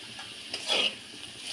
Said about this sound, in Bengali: এবার আমি আলুটা ভেজে নেব এই তেলে